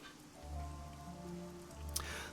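Rain falls in the video game Shadowrun Hong Kong as a faint, steady hiss beneath soft sustained musical tones, with one brief brighter splash near the end.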